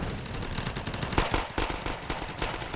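Sustained automatic gunfire from troops shooting at enemy infantry in the real-time strategy game Wargame Red Dragon: a dense, loud stream of rapid rattling bursts with sharper individual cracks, continuous and without speech.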